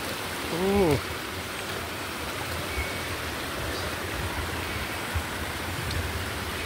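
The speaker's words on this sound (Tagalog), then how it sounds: "Yung tubig po yan, yun yung papunta sa mini hydro." River water rushes steadily over stones on its way to a mini hydro, a broad continuous wash with a brief whistle-like tone near the start and no clear speech.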